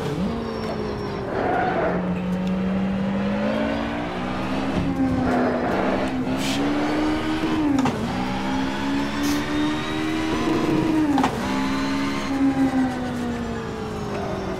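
A Touring Car Legends race car is driven in rFactor 2, its engine note rising and falling through gear shifts and corners, loud and close, with brief tire squeal.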